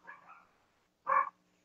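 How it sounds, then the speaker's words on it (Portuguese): Two short dog barks, the first softer and drawn out, the second a loud, sharp yelp about a second later, close by in a quiet indoor room. "desculpa minhas cachorras latindo"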